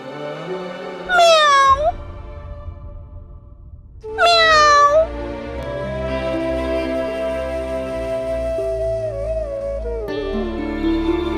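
Two loud, drawn-out cat meows, close by, separated by a pause, followed by soft music underneath.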